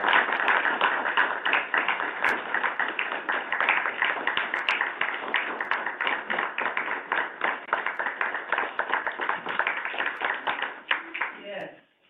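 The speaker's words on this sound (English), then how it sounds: "I think it's worth a round of applause for" People at a waste district board meeting give a round of applause, about twelve seconds of steady close-up clapping from a small group that holds even and then stops abruptly.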